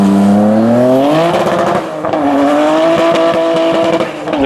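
A fast twin-turbocharged car boosting at 1.2 bar, around 440 horsepower, driving hard on a track: a loud, sustained engine note rising in pitch and then holding steady, with gearshift dips and some tire noise.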